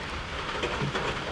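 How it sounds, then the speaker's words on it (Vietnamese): Steady rain falls at a riverside home, a dense continuous hiss with scattered drops and no voices over the whole stretch. "giờ trời mưa luôn đó nha"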